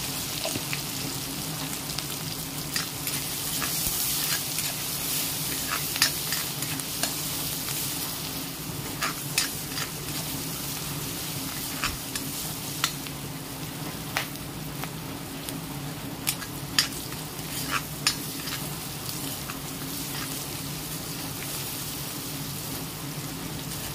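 Steady sizzling of onions and turmeric frying in a pan, with occasional scraping stir strokes and small pops, no talking.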